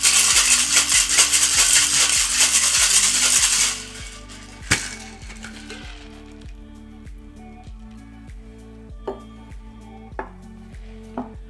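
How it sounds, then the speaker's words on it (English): A Mai Tai is shaken hard with ice in a metal shaking tin, a dense, loud, continuous rattle lasting about four seconds. A few sharp taps and clinks follow over background music. "Give it a nice little whack and whip shake for about 5 to 8 seconds."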